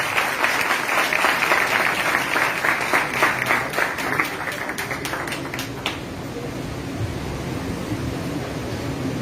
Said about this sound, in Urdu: زوردار تالی کے ساتھ